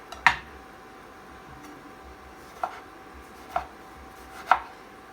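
A knife chops a tomato on a board for salsa, giving four sharp separate cuts with long pauses between them, close and clear with no talk.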